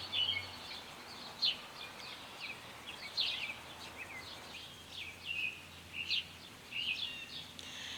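Birds chirp and sing in quick, bright bursts across a quiet outdoor patio, fairly faint against a soft background hush; wind chimes are not clearly distinct.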